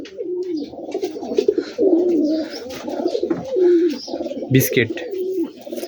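Rajshahi Giribaz pigeons, colour-matched high-flying birds, coo steadily in a loft, their repeated throaty calls close by while someone talks over them throughout.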